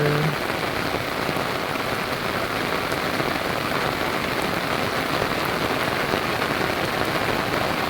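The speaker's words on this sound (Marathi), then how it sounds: "किती खतरनाक पाऊस आहे ना" A heavy monsoon-style downpour drums on surfaces in a constant, dense hiss and patter, loud and close throughout with no pauses and no talk.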